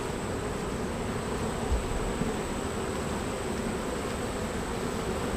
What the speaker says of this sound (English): quite a few bees bringing in some very nice bright yellow pollen